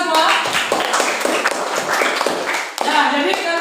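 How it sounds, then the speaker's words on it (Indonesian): Students in a classroom break into a burst of clapping, lively and close, mixed with overlapping voices and cheering, pausing briefly before a second round of claps. "Beri tepuk tangan kita semua."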